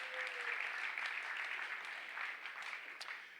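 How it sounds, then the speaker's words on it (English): A quiet, fairly distant round of applause from a conference audience at a hackathon opening ceremony, an even wash of clapping that tapers slightly over a few seconds. "Everyone, round of applause."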